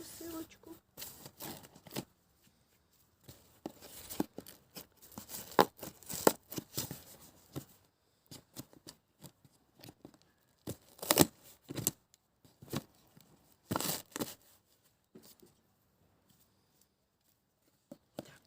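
Packaging holding a herbaceous peony and mineral fertilizer is torn and rustled open in scattered bursts of crinkling and ripping, fairly quiet and close, with pauses between, while a person speaks quietly.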